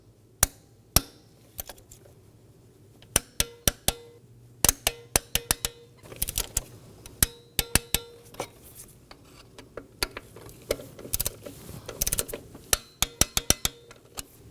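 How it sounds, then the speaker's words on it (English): Sharp clicks and ratcheting snaps from a torque wrench with a 5mm Allen bit tightening bolts to 74 inch-pounds in a crisscross pattern on a Nissan Maxima, the clicks coming in quick irregular bursts, close and alone. "Now I'm going to torque these down to 74 inch-pounds using my 5mm Allen bit."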